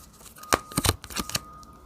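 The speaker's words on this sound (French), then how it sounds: "il faut que je mette une autre carte" Tarot cards being drawn and laid down on a table, a quick run of close, crisp papery slaps and flicks with a short pause between, no voices.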